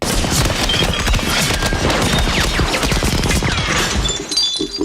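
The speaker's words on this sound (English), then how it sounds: "Someone's gonna start firing." Dense battlefield gunfire from the 1998 war film Saving Private Ryan, with rapid overlapping shots and crashing impacts forming a loud, continuous barrage that thins slightly near the end.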